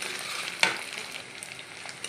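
Small prawns fry in hot oil with a steady, dense sizzle, broken once by a brief clink of utensil against pan.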